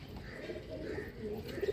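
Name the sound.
pigeons cooing on a rooftop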